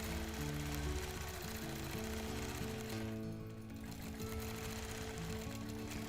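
A sewing machine stitches steadily over a quilt with a fast, continuous mechanical hum and rattle, fairly faint and unbroken throughout.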